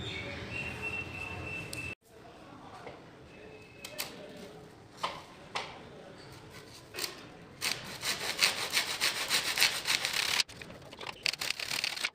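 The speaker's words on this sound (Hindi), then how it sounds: "कटिंग के लिए ज़रूरत पड़ेगी मुझे एक अदद आरी की" Hand saw cutting wood strips for a homemade canvas frame, close rhythmic rasping strokes building to fast, steady back-and-forth sawing after a few scattered scrapes and knocks.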